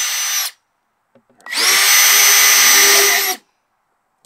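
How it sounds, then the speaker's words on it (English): A power drill bores into a 5-gallon plastic bucket in two bursts, a short one and then a longer steady whine of about two seconds, loud and close, separated by a brief pause with no talking. "You drill it."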